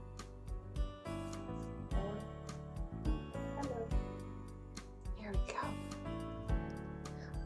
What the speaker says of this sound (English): There's barking.